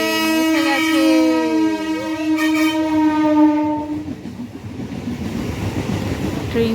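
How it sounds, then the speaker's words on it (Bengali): A train horn sounds loudly for several seconds as a train arrives at a closed railway level crossing, followed by the rumble and rattle of wagons passing close by. "তো ট্রেন এসে গেছে,"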